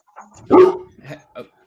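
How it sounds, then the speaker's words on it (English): A female dog barks nearby, a few sharp, loud barks with a louder one in the middle, and no talking. "That's my dog. She's trying to make sure she defends me."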